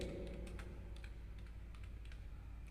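Keys clatter on a computer keyboard while a rent-payment narration is entered in Tally accounting software, a quick irregular run of soft taps, close and quiet, with no talk.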